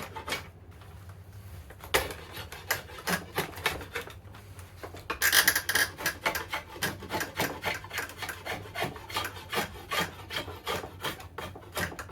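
Rough, rasping strokes of a saw biting into yew wood, steady back-and-forth rhythm with a juddering, uneven texture, close by and fairly quiet.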